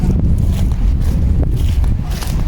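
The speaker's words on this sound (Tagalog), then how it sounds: "Lakas ng hangin." Strong wind gusting outdoors at a camping spot in Czechia, a steady loud low roar buffeting the microphone throughout, with faint scuffs and movement mixed in.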